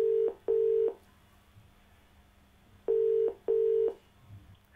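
Telephone tones sound as a call is placed to a phone-in caller on a TV advice programme: two pairs of steady beeps, each pair quick and loud, separated by a pause with faint background hum.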